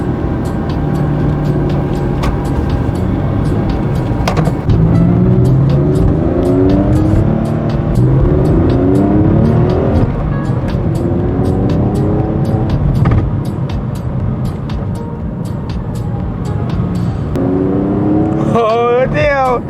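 Porsche 911 40th Anniversary engine with stock exhaust, heard from inside during a ride as a steady loud engine drone with rising gear pulls, while people talk over it.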